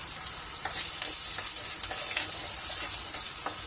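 Small onions, garlic and green chilies fry in a hot pan with a steady, close sizzle, broken by faint scraping clicks of a spoon stirring now and then; no one speaks.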